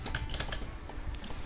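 Typing on a Samsung Book Cover Keyboard for the Galaxy Tab S9 FE. A quick burst of close, crisp key clicks comes first, then lighter, sparser taps.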